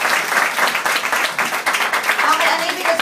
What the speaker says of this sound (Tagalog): Salamat po sa palakpak.